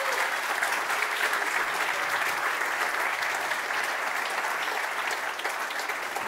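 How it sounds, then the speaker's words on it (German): Sustained, even applause from a live audience at a comedy roast of candidates for the 2021 Bundestag election, greeting Jonathan Löffelbein; constant and fairly close, with no speech. "einen ganz, ganz großartigen Applaus für den einzig wahren Jonathan Löffelbein"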